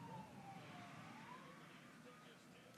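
A police car siren wails faintly as it passes at a distance, its rising and falling tone drifting under quiet background noise.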